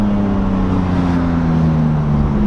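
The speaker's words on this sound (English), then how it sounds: "New exhaust sounds fresh." A BMW M3 with a new exhaust drones steadily with a low exhaust rumble, the pitch rising slightly as it drives along.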